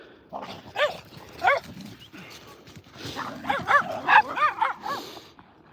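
A dog barks close by outdoors in snow in short bursts, a couple of single woofs followed by a quicker run of yelps and whiny barks.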